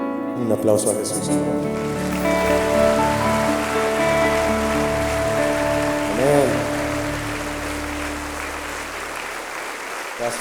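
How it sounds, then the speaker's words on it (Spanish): Congregation applauding during a Spanish-language church service, a broad rush of clapping that rises after a spoken word and continues over sustained instrumental tones. "Un aplauso a Jesús."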